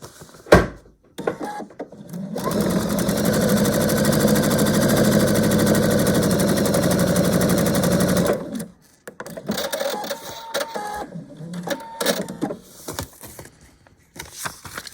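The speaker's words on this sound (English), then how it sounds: "Okay, so I'm gonna go ahead and sew that one." A sewing machine stitches a quilt block seam in a loud, steady mechanical whir lasting several seconds. Scattered clicks and handling noises follow once it stops.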